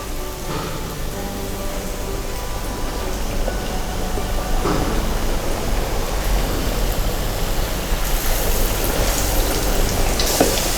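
Battered fish frying in hot oil gives a dense, steady crackling sizzle, close and continuous, like heavy rain on a surface, with no talking.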